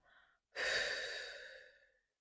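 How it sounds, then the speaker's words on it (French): A single long exhale through the mouth during a guided relaxation breathing exercise, a soft close breathy rush that swells quickly and fades over about a second and a half, preceded by a faint short breath. "Expirez par la bouche toutes vos tensions."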